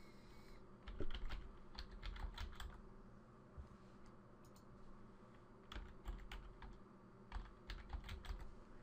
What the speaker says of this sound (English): So I'm just going to quickly put in a password.